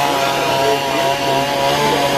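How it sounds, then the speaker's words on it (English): A chainsaw drones at a steady high pitch while carving wood at a festival at Dollywood, loud and close, with no talking. "some chainsaw carving going on here"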